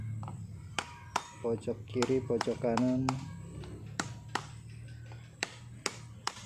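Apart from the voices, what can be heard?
knocking bearings into place on a paper shredder gearbox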